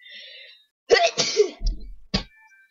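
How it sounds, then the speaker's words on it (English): A single close sneeze bursts out indoors, a sharp intake followed by a quick explosive release and a short trailing sound, with no talk around it. "Gotta sneeze."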